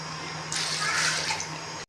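Water poured into a pot of fried chicken for chicken pulao, a short rushing splash that swells in the middle and then cuts off, with a low steady hum underneath.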